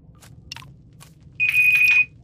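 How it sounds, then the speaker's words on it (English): A kitchen timer alarm goes off briefly near the end, a short, loud, high-pitched electronic beep following a few faint clicks and taps in a quiet room. "there's my timer"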